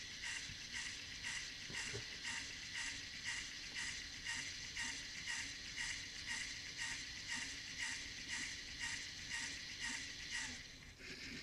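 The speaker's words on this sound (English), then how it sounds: "now it's pivoting the camera back down, and it's going to go all the way down" A Lego Mindstorms robot motor pivots a 360° photo camera rig downward, giving a steady, rapidly pulsing whir with a regular ratcheting rhythm, close and continuous with no other sounds.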